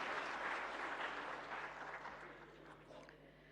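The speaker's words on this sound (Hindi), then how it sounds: "तालियों के साथ स्वागत माननीय राष्ट्रपति महोदया जी।" A seated audience at a national award ceremony breaks into sustained applause to welcome the President, a dense, even clatter of clapping that gradually thins and fades.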